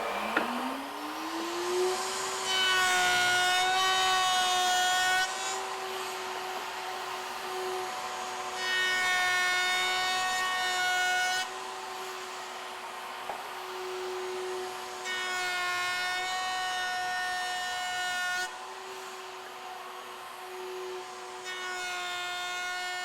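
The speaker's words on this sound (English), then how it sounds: "now I'm going to go through and make the passes and put the dovetail on the end of these pieces" A power router cutting sliding dovetails across the ends of wooden stretchers for a side table, its motor whining steadily while repeated loud cutting passes grind through the wood between quieter stretches, no talk.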